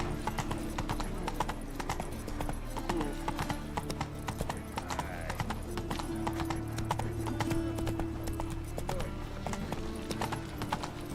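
Roach the horse gallops in The Witcher 3, hooves clip-clopping in a steady fast rhythm under game music, with a brief whinny and some talk mixed in.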